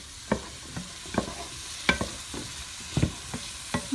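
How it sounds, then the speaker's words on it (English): Onion chunks sizzle in butter in a pan for shepherd's pie under a faint steady hiss, with a spoon scraping and knocking at irregular intervals as the pieces are stirred and broken up. "I'm just kind of trying to break up these onion chunks so they cook a bit faster"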